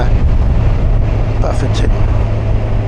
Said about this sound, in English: We're definitely getting the wind in the visor area still.